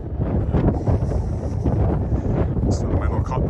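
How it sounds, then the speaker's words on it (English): Wind buffets the microphone in a constant low rumble on a creekside walk in Regina, loud and close, with faint rustling and a brief distant voice under it. "It's a bit windy."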